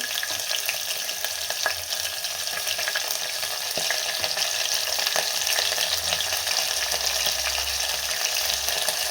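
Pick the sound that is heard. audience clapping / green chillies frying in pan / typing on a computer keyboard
green chillies frying in pan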